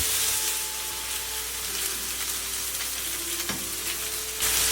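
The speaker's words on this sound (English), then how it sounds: "Brown both sides and fry pan over medium heat." Hamburger steak patties fry in a pan over medium heat with a steady, close sizzle and crackle that runs continuously through the clip, with no talking.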